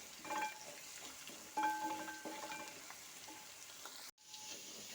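Ingredients for bilimbi (lubika) pickle fry in a pan with a soft, quiet sizzle and occasional stirring clinks, broken by a brief cut near the end.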